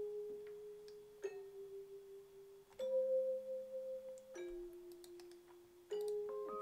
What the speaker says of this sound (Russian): Добавил колокольчиков сверху.